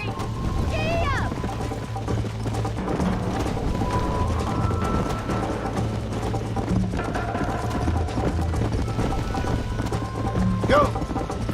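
A horse galloping under a rider in Red Dead Redemption, steady rapid hoofbeats throughout with a brief whinny near the end, voices speaking over the ride.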